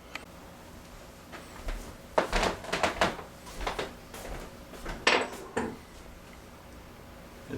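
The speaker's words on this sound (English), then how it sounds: "Let me get a hammer. Tap this." A hammer taps on the door hinge of a Whirlpool washer, model GHW9150PW4, making sharp metallic clinks. They come in small irregular clusters of a few hits each, close and fairly loud over a quiet room.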